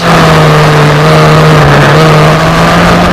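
Historic Formula Ford race cars roar past on a circuit, a loud, sustained engine drone with steady pitch as the pack streams by up close.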